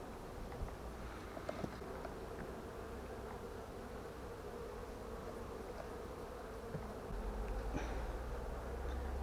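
Honey bees from a small late-summer swarm hum in a steady, continuous drone close by, with the buzz swelling slightly louder toward the end and no talk over it.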